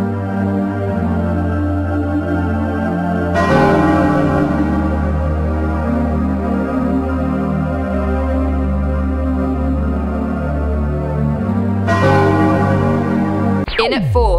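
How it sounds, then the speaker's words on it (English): Eerie bells toll over a sad, whirling melody from the final-day Clock Town theme of a Legend of Zelda game, steady and full throughout with swells of brighter layers entering and fading. "Eerie bells and a sad melody whirling in and out while you complete whatever tasks you have yet to resolve"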